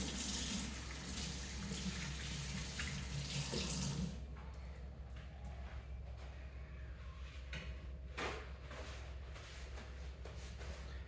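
Tap water runs hard into a sink while hands are washed, loud and steady for about four seconds, then shuts off, leaving quiet room tone with a few soft splashes and handling noises.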